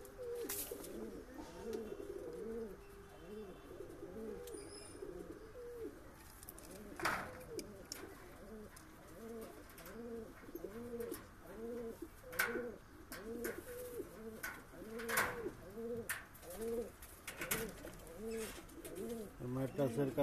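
Madras breed pigeons cooing in a loft, a steady run of soft, rhythmic rolling coos repeating close by, with occasional wing flutters and a voice talking quietly underneath.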